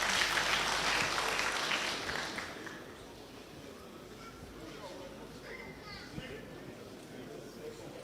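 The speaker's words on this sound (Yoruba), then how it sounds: "ẹ fún ọ ní àtẹ́wọ́ tó rìn lẹ́jọ́." A crowd at a state governor's meeting with transport union groups in Oyo State bursts into loud applause that fades after about two seconds, leaving murmuring voices and background chatter.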